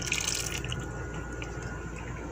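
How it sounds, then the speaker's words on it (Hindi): Reserved water is poured into a pot of white chickpeas, giving a close splashing pour that is strongest at the start and then settles into a softer trickle and bubbling, with no talk. "अभी हम जो पानी हमने निकाला था वो अभी हम इसमें ऐड करेंगे।"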